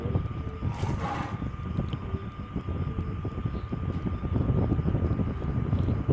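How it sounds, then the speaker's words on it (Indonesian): Wind buffets a microphone outdoors during an online game voice chat, a steady loud low rumble with gusty swells throughout, no clear speech. "lagi di luar banyak angin."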